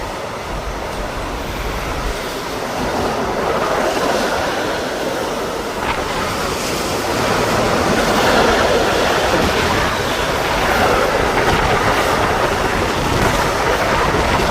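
Continuous rumbling roar of a train moving past in Germany, broad and steady with a slight swell midway, no talking.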